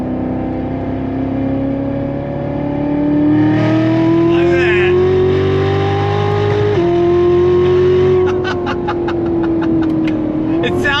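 The supercharged V8 of a Lingenfelter-modified Chevy C7 Corvette Z06 roars and climbs in pitch as it's revved hard, a deep sustained growl with rising whine, heard close up; a voice cheers over it.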